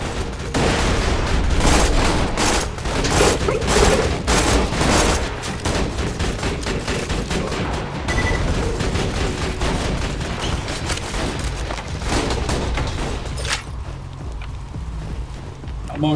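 Turret gunfire in Borderlands 2 rattles in dense, rapid bursts, loud and close, with booming impacts layered through. The barrage continues steadily, then thins out toward the end.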